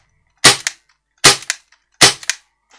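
An M92 gas airsoft pistol fires three sharp, close cracks at an even pace, each with a short echoing tail in quiet surroundings.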